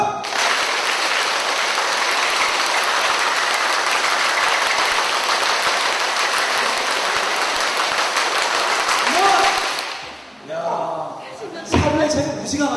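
A group claps rapidly and continuously during a counting game at a family event, a dense, loud roar of hands for about ten seconds that stops abruptly, followed by brief talking.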